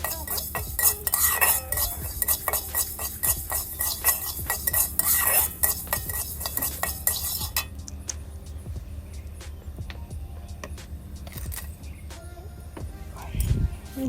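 Whole coriander seeds dry-roasting in an oil-free pan on a tawa while being stirred, a dense run of rapid scraping and rattling clicks, loud at first then thinner and sparser, with a brief low thump near the end.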